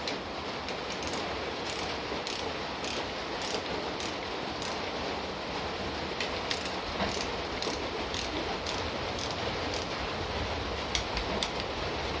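Torque wrench ratcheting as crankshaft main bolts are tightened on a BGE 6.4 Hemi engine block for a Challenger, giving a steady run of close, rapid mechanical clicks over a constant background hiss.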